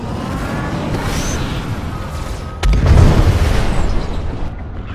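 A missile striking an enemy ship in the space game Star Citizen, with a loud, close boom bursting out over a rumbling engine drone and then fading into a lingering roar.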